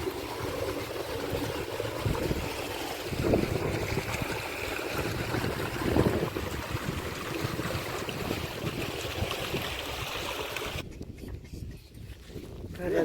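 Irrigation water flowing through a farm channel, a steady rushing gurgle heard close and fairly loud, with some wind noise over it, before it drops away abruptly near the end.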